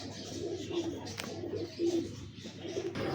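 Ferozpuri pigeons coo in soft, repeated low calls at a steady rhythm, heard close by over a constant background hiss.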